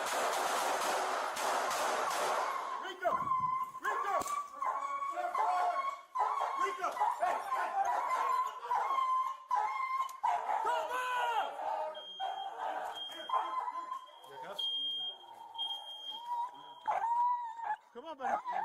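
An injured police dog whimpers, yelps and barks in a tense stretch of near, repeated cries, with urgent talk and radio-like voices mixed in throughout.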